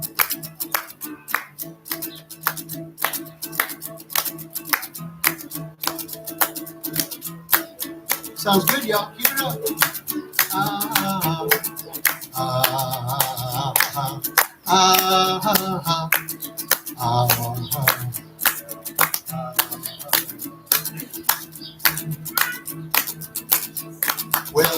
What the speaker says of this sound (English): Can y'all clap the hands?